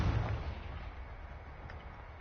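The Confringo blasting spell in Hogwarts Legacy goes off as a muffled blast at the start, then a rumbling decay that fades slowly under a low background roar.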